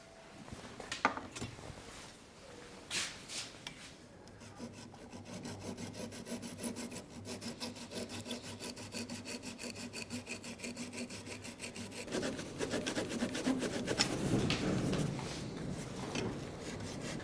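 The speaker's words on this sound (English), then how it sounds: "I'm going to cut another 2 slots on every corner" A power tool cuts slots into the corners of a walnut shadow box, its buzzing rasp running almost without pause and growing louder toward the end.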